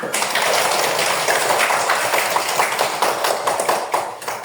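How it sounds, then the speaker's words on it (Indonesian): A school class applauds together in the classroom, a dense, continuous wash of many hands clapping at once, loud and steady throughout before easing slightly at the end. "Tepuk tangan untuk kita semua"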